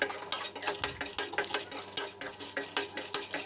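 Dry red chilies are roasted over low flame in a pan, a spoon scraping and tapping in a quick regular rhythm with light sizzling underneath, close and loud, no talk.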